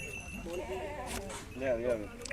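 Goats bleat in two wavering calls, one early and one later, close by, with people talking around them.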